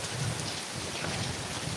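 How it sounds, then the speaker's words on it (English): Heavy rain pours steadily with a low thunder rumble beneath it, a dense continuous wash at even loudness with no voices. "it's raining like really bad."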